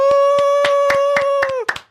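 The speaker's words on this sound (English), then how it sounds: "Go ahead, clap for yourself" A few sharp, evenly spaced hand claps, about seven in a row, ring out for a fitness guest on a talk show over a held musical tone that drops away just before the last claps.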